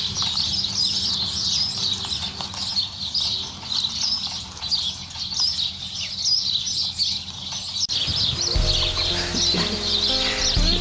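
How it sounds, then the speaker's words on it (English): Meat chickens standing around a cabbage leaf in a vegetable garden make soft, scattered clucks and high chirps, with a brief rustle and a shift in background noise late on. "Tried it, giving the meat birds a cabbage leaf."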